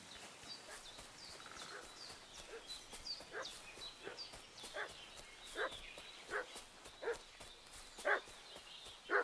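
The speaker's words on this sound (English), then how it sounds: "What's that dog making such a fuss about?" A dog barks repeatedly in sharp, uneven bursts that grow louder toward the end, over a soft ambient background with light chirping, in the video game Kingdom Come: Deliverance II.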